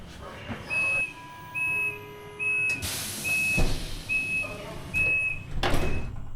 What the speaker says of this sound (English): Doors closed, and we're on our way again, leaving Poznan behind